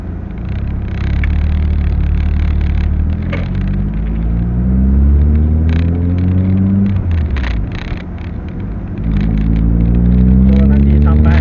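A car engine on a remapped ECU, with lights and air conditioning switched on, hums loudly and steadily, its pitch rising as revs climb and then sliding back down to an idle of around 800 rpm, while someone talks over it.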